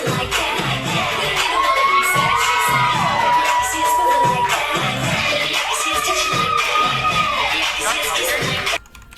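A large crowd at an event screams and cheers continuously, with shrill high-pitched whoops and shouts rising over a dense roar, recorded from a played-back video.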